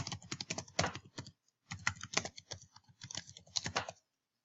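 Keys clatter on a computer keyboard as a web address is typed, a quick close run of soft clicks, a brief pause near halfway, then another burst of taps before it stops.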